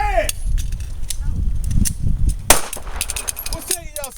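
Pistol shots ring out during a self-defense shooting drill, sharp and close, several reports spread across a few seconds with a louder crack near the middle, amid outdoor range noise and background voices.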